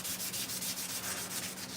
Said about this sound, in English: Sounds like he's blocking a little bit.